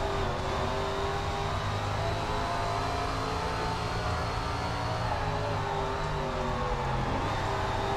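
Super late model race car engines in SRX: The Game at Stafford drone steadily at high revs throughout, with a continuous loud roar and no talking.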